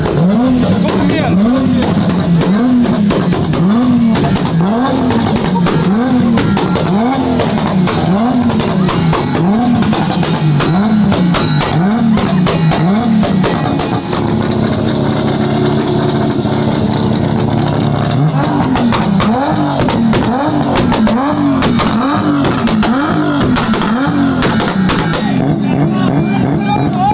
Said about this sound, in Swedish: Nu ska vi lyssna på en 3-serie som ska varva och ta hörseln ifrån oss.